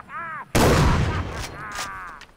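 A single loud, close gunshot with a decaying boom in the shooter video game Far Cry 3, set between short bursts of a shouted voice.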